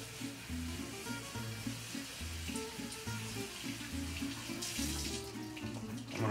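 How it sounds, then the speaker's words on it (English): Cold tap water runs in a kitchen sink over cooked pasta, a continuous splashing rush with a steady rhythmic low thrum beneath it and a brighter hiss of spray near the end. "Now we're gonna cool the pasta so it doesn't cook anymore, so it stays al dente, so we're gonna run it under some cold water."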